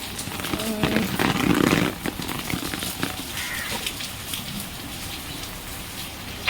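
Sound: rain falling

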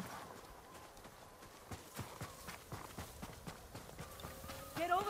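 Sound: horses clip-clopping in the video game Ghost of Tsushima

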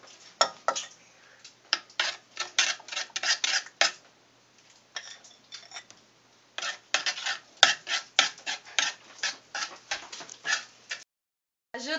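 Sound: stirring egg yolks into chocolate mixture

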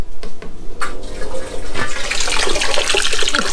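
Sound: water running from Grainfather G40 brewing system

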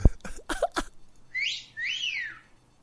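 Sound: person whistling

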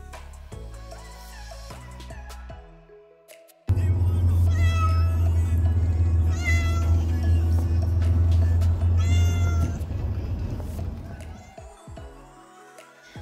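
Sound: cat meowing in a carrier during a car trip

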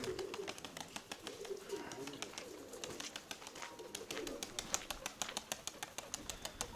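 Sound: pigeons cooing in a pigeon loft

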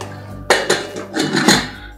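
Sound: closing the lid of a pressure cooker

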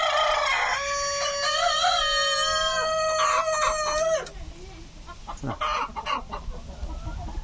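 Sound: chickens of several breeds clucking at a temple

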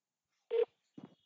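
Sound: telephone dialing DTMF tones

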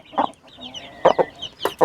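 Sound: hen clucking

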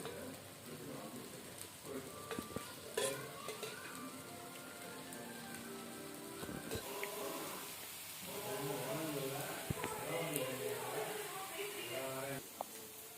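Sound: adai dosa sizzling in plenty of oil

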